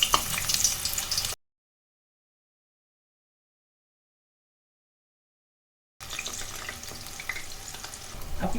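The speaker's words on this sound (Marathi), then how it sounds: "वांगी चिरायची आणि लगेचच तेलामध्ये सोडायची." Sliced brinjal (eggplant) frying in hot oil for stuffed vangi masala, a steady bubbling sizzle that stops in silence for a few seconds, then resumes as a softer, continuous crackle.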